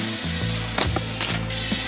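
A ratchet tool drives screws into a wooden garden bed frame, with a steady close mechanical whir and clicking bursts, plus a couple of brief sharper knocks.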